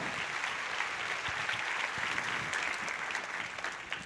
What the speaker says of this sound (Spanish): Dale un aplauso bien fuerte al Rey, por favor.